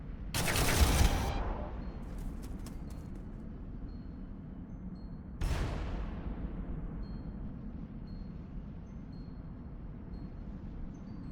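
Artillery fire from orc units in the Warhammer 40000 game, with a loud burst of booming shots near the start, then a second sharp blast about five seconds later, trailing off into a low rumble.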